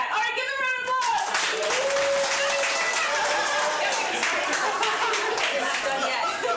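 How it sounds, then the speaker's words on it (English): Audience applause breaks out, a dense, steady wash of clapping mixed with crowd voices and some laughter, with a few people talking over it near the start. "Give them a round of applause."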